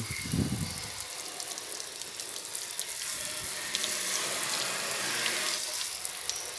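Water sprayed onto a car to wash off yellow stains, a steady close hiss of spray with faint trickling and a low thump near the start, without talk.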